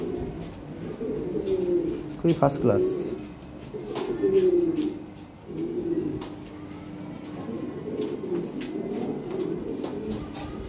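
Show-quality pigeons cooing, a pair of 2020-bloodline birds, with soft rolling coos rising and falling in close bursts, a brief clattering flutter early on, and a short spoken remark over the birds.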